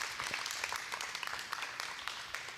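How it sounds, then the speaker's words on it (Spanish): Audience clapping for introduced panel speakers, including a physician, at a talk on nutrition and dental health, a faint, fairly distant patter of hands that runs evenly through the short stretch. "Un fuerte aplauso para ellos."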